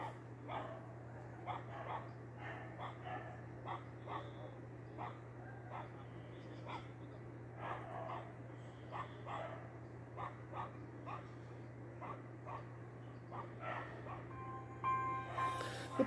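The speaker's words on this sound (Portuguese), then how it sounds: "O cachorro não saiu do lado do dono." A dog beside its dead owner on a football field, giving a steady series of short, faint barks and yips at regular intervals, slightly distant over a constant low hum.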